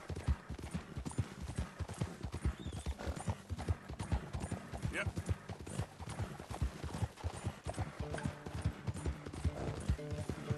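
Rapid, rhythmic hoofbeats of a galloping horse in Red Dead Redemption 2, loud and close, continuing steadily throughout, with a brief spoken word partway through.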